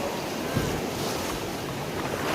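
Sea waves wash steadily along Diveagar beach on the Konkan coast, heard from a boat as a broad, even surf roar mixed with wind buffeting the microphone.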